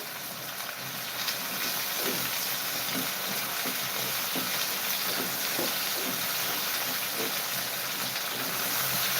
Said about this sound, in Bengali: এটাকে আমি খুব ভালো করে এখন ভেজে নেব